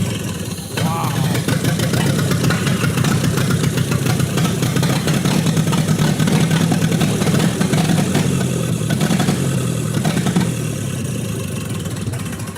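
A Ford Model A engine is started and runs loud and close, a rough, steady idle with a slight rise in revs, while voices speak now and then beneath it.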